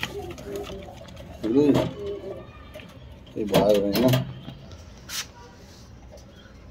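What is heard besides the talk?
pigeons cooing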